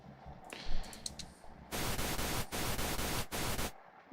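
Pink noise from the Vital software synthesizer switches on as a loud, broad, steady hiss in several bursts separated by short gaps, preceded by a few quieter clicks.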